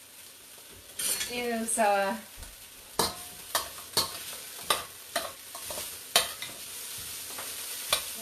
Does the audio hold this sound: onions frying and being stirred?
yes